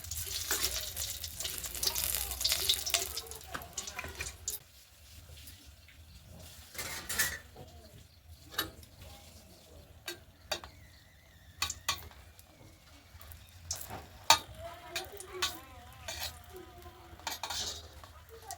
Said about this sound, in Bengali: অল্প তেল দিয়ে দিলাম একটু মরিচটা ভেজে নেব শুকনো লঙ্কা